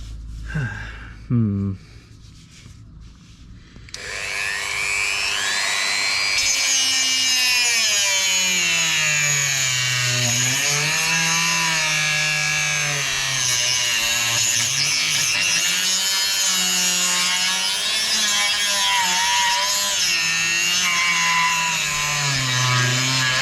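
A power tool grinds steadily at rust on a Volvo V70, running loud and continuous with a wavering pitch after a brief quiet start with a gasp.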